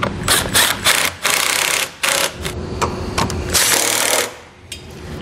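A power tool tightens the mounting bolts of a Draw-Tite Sportframe trailer hitch receiver in loud, close bursts of whirring and rattling, with short pauses between them.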